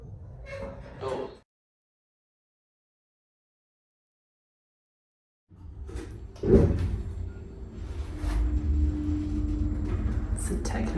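Lift doors at a Sports Direct and Next store in Birmingham slide and rumble open and shut, with a thud, a steady motor hum and a person talking nearby.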